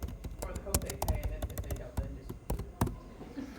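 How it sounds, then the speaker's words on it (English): Quick, light typing on a computer keyboard, a fast run of small clicks and taps, faint and close, with a voice talking over it now and then. "And I'm typing this real quick."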